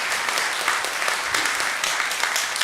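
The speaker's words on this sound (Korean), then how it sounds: "한번 환영의 박수 한번 보내주시면 고맙겠습니다" A church congregation claps in welcome for visiting parents of students at a Sunday afternoon service, a dense, steady wash of applause filling the whole stretch at close range, with no voices over it.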